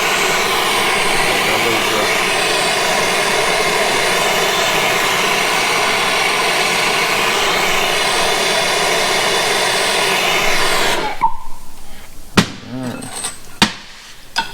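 A gas torch roars loudly and steadily while heating a thick section of steel rail, then cuts off near the end, leaving a few sharp metallic knocks.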